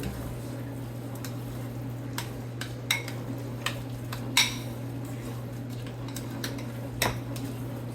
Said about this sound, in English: Add in tomatoes, and then mix it all in.